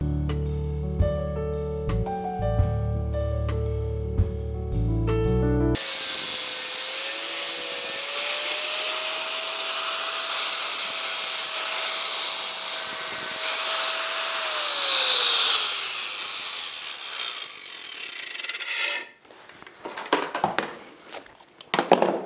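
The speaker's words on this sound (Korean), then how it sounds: "바이스로 물어주고, 그리고 20mm 가량을 그라인더로 끊어볼 생각입니다" An angle grinder cuts about 20 mm off a workpiece clamped in a vise, giving a loud sustained whining roar for about thirteen seconds with a gently shifting pitch. It is followed by short clattering handling noises.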